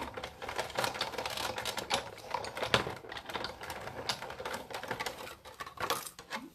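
Layered dies and card are cranked through a Big Shot die-cutting machine, producing a dense run of ratcheting clicks and clacks, close and continuous.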